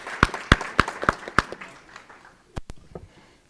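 Applause for student athletes and participants at a school board meeting: a handful of loud, distinct claps in a quick run, a pause, then a couple more sharp claps tapering off.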